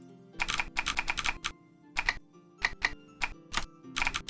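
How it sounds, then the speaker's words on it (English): Mechanical keyboard typing, heard alone as rapid clusters of crisp keystrokes separated by short pauses, fairly close and clear. "you can get a whole bunch of these other keyboard sounds"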